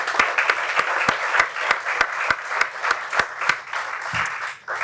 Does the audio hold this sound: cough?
no